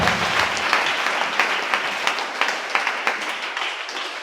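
A church congregation applauds and acclaims during a sermon, a sustained roar of many hands with regular louder clap accents running throughout.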